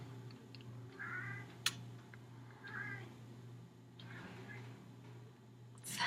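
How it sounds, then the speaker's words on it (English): A house cat meows twice, faint and somewhat distant, a couple of drawn-out calls spaced a second or two apart over a low steady indoor hum. "My cat."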